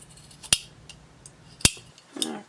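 Scissors snipping fabric close to the seam of a handmade doll sock, two crisp close snips and a softer rustle at the end, otherwise quiet.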